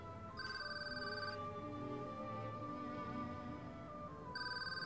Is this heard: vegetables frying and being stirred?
no